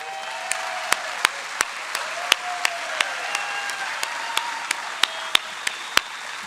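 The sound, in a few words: crowd cheering and applauding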